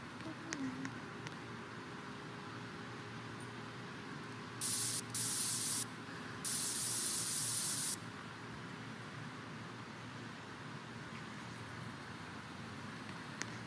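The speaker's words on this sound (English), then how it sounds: "Spray paint." A spray paint can hisses in three bursts, two short ones and then a longer one, each loud and close over a quiet room background.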